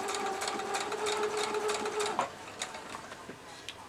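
Sewing machine stitching a quilt seam on a Morning/Lone Star quilt block: a close, steady mechanical whir with rapid needle pulses that stops abruptly partway through, followed by a few light clicks.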